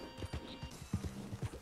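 Horse hooves clip-clop at a walking pace in Red Dead Online, several distinct, fairly quiet hoof strikes over faint background game ambience.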